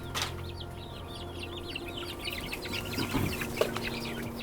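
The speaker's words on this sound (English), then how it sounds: "Say hi to some of my new chickens too" Chickens cluck and chatter in a busy cluster in a backyard food forest, a steady flock sound at moderate distance with faint background noise.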